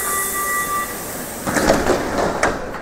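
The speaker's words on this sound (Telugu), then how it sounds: "ఈ ట్రైన్ ఇక్కడ ఆగిన తర్వాత మళ్ళీ వెళ్ళిపోతుంది ఫ్రంట్కి" A train at a station in Germany, its carriages rolling and rumbling past with a metallic squeal and hiss, a brief whine fading early as clattering wheel noise builds, moderately close.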